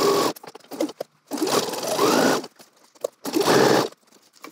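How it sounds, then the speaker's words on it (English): Sewing machine stitching around a fabric pocket bag: three loud runs of fast, buzzing stitching separated by short pauses for pivoting, close and clear. "pivot, and stitch not down the side seam to close off the pocket, but actually around the pocket bag to the second dot"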